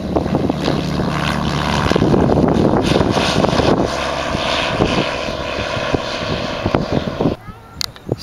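A 1949 Piper Cub Vagabond light aircraft at a summer fly-in, its propeller engine droning loud and steady nearby with wind buffeting the microphone, then dropping away near the end.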